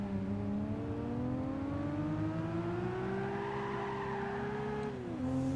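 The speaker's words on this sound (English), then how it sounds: "It sounds like a Porsche." A Porsche GT3-type engine in Gran Turismo 5 holds a steady, climbing rev with rising harmonics, then dips sharply near the end as it shifts, with faint tyre noise underneath.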